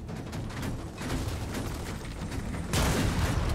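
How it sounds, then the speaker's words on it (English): Shotgun blasts in the Gears of War 4 video game, a dense run of loud overlapping booms with a heavier burst near the end, set against ongoing game noise. "it might be easier to destroy them with a shotgun"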